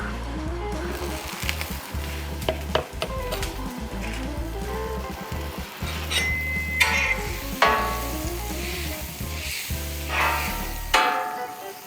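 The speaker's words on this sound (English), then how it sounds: "So let's start with our onions. A little bit of butter down." Onions frying in butter on a Blackstone griddle give a close, steady sizzle, with a spatula scraping and stirring through it at intervals.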